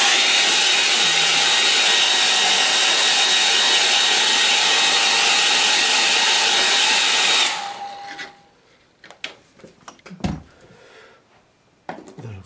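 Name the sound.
hair dryer drying a watercolour painting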